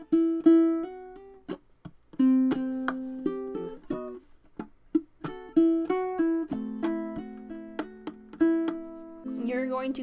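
Fingerstyle ukulele playing the intro of a song: clear plucked notes and short chordal plucks in a steady, halting rhythm, some notes ringing and others damped, close and solo with no voice.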